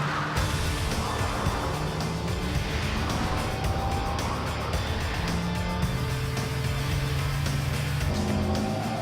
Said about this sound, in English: driving the all-new Acura TLX